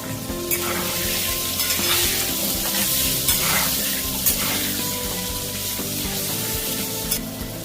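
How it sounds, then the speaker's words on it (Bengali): Potatoes fry in oil with a little turmeric and salt for a potato and country-chicken curry. A loud, continuous crackling sizzle fills the whole stretch at close range, with no voices. "আলুগুলো লাল লাল করে ভাজা হয়ে গেছে দেখো"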